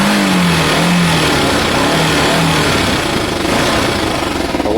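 Kawasaki ER5 motorcycle engine running with no choke, a loud close steady mechanical drone with a slight wavering note throughout.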